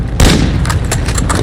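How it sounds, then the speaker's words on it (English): Video-game airstrike and gunfire: a sharp loud explosion onset followed by a quick string of close shots and blasts over about a second. "Friendly airstrike on the way."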